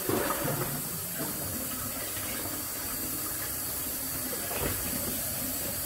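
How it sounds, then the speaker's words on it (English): Tap water runs steadily and close over raw pork ribs in a sink, a constant hissing splash with slight changes as the flow hits the meat. "Go back in one more time with some water."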